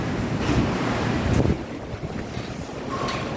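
Strong wind buffets the microphone with loud, steady rumbling gusts, a heavier blast around the middle, with surf-like roaring underneath and no talking.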